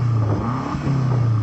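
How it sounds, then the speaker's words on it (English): A BMW M8 engine revs briefly, a deep exhaust note that dips and climbs again, loud and close with no talking. "so I'm going to start off by revving up this M8."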